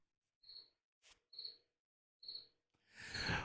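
Cricket chirps in a quiet indoor room, three soft high trills with gaps between them and a small click, then a rising rush of noise at the end.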